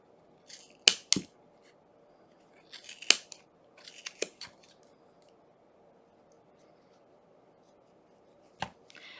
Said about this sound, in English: You're going to ever so gently go into those loops